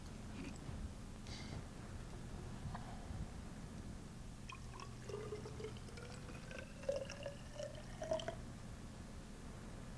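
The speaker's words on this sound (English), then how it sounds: "put some water in there" Water is poured into a small container. A soft, faint trickle rises in pitch as the container fills, with a few brief splashes near the end.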